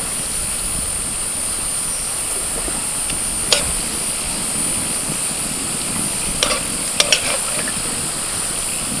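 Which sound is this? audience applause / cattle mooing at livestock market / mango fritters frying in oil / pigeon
mango fritters frying in oil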